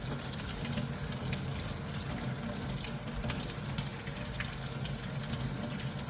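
Warm water pours steadily through a Nissan Sentra 2.0L PCV valve, a constant close hissing splash with no pauses or talking.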